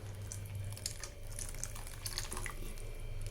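Coconut milk pouring into simmering rasam in a pot, a soft continuous liquid pour with faint trickling and light splashes, quiet and close, no talk.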